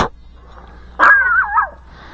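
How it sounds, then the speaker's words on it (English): A dog outdoors in Maple Ridge Village on an overcast day gives a sharp bark, then a louder yelp that stretches into a wavering whine, close and clear against a quiet background. "Marbar, what are you barking at?"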